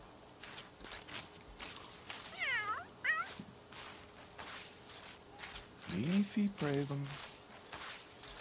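A cat in The Sims 3 video game gives several short meows, some drawn out and wavering, among soft game sounds and footsteps, with someone talking over parts of it.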